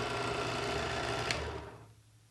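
A Smith's Adjustable Edge Pro electric knife sharpener whirs steadily as a knife is drawn through its slot, the motor hum close and continuous before trailing off.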